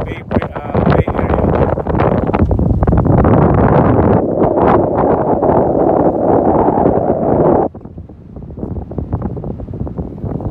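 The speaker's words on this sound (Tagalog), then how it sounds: "mahangin ng konti" Steady wind buffeting the microphone on a bike tour for most of the clip, loud and close, easing off near the end as faint talk comes through.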